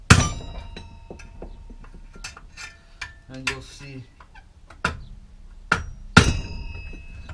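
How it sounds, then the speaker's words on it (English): A hammer strikes a screwdriver against a Yamaha MT01 motorcycle exhaust, giving a series of sharp metallic taps spaced irregularly, with brief ringing and someone talking between blows. "the trick is just a screwdriver and a hammer and just tap it in the middle"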